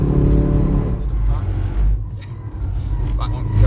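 A 2023 Mercedes-AMG C63 S hybrid with 670 bhp accelerates in race mode, its engine roaring loudly and steadily from inside the cabin while people talk over it.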